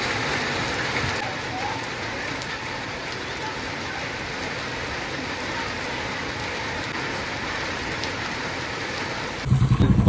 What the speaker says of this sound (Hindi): घर से निकलते ही बारिश स्टार्ट हो गई।